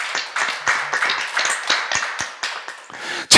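A church congregation at a Philippians seminar breaks into loud, sustained clapping, a dense patter of many hands with uneven bursts throughout, no voices over it.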